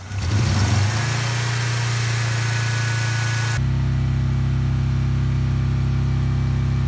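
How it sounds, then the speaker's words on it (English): A Saturn 1425cc engine idles choppily on three cylinders with a light lifter tick, a steady, loud low drone that shifts abruptly partway through and then holds even. "the idle's a little choppy and we have a minor lifter tick"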